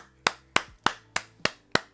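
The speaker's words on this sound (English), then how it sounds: "I clapped that." Six sharp hand claps at a steady, even pace, loud and close, with no talk over them.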